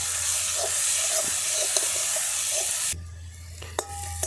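Turmeric and cumin powder masala frying in oil for a village-style prawn curry, giving a steady close sizzle for about three seconds before it drops to a quieter simmer with a few sharp spoon clinks against the pan.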